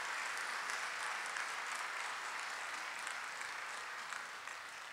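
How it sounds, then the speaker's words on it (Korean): A church congregation applauds during a Sunday worship service, a steady, dense wash of clapping that holds evenly for several seconds at moderate level with no talk over it. "한번 박수 한번 하겠습니다."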